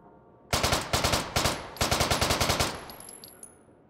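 A Walther MP submachine gun fires in Hot Dogs, Horseshoes & Hand Grenades, four loud close bursts of rapid automatic shots with brief pauses between them, each burst a rattling string of reports, followed by a fading metallic ring.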